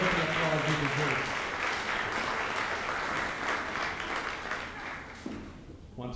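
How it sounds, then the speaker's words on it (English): Sustained audience applause at a high school graduation ceremony, a broad wash of many hands clapping that stays loud and even before tapering near the end. "stand up a little longer and get the applause he deserves"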